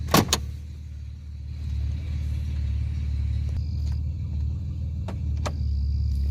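A 1989 Chevrolet Celebrity engine idles in gear after a lower intake manifold gasket repair, giving a steady, close, low rumble with a few faint clicks and ticks over it.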